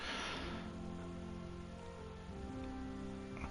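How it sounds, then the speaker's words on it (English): Rain patters in the medieval world of Kingdom Come: Deliverance, a steady, fairly quiet wash of drops on surfaces mixed with faint tonal hum, continuous and without voices. "Ugh, it's raining here too."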